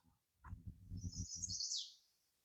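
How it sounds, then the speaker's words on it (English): Bright birdsong warbles high above a low rumbling noise beside a tidal river, a short chirping burst in the quiet. "You have the birds."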